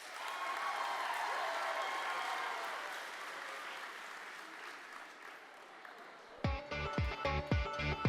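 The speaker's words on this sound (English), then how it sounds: "Let's give the candidates another round of applause and wish them luck." Sustained applause fills a hall at the 92nd Washington FFA Convention and Expo, fading after about six seconds as a music track with a steady beat starts.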